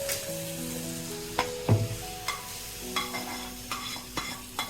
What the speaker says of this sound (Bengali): তাই টমেটো ধনেপাতা এখন দিয়ে দিচ্ছি ডালের মধ্যে